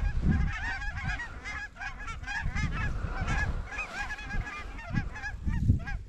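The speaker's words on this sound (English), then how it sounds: "The first flock of geese. They were lessers." A large flock of lesser geese honks continuously during a goose hunt, many overlapping calls rising and falling, fairly close and loud.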